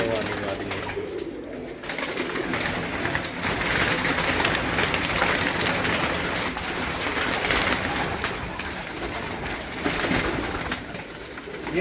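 Female flying pigeons on a rooftop coo in a steady, dense chorus of soft murmuring calls, close and continuous, with faint voices in the background.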